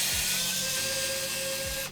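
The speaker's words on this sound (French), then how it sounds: "tournevis électrique et on va défaire tout ça" An electric screwdriver removing screws from a Nintendo 64 console: a close, steady whine with brief motor start and stop at the ends.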